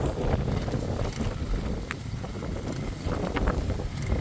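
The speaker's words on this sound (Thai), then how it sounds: "โอ้โหลมเย็นมากวันนี้" Cold wind blows hard across a mountaintop, buffeting the microphone in a loud, continuous rumble with gusty surges and no voices.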